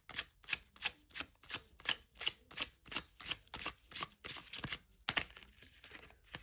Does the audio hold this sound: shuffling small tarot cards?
yes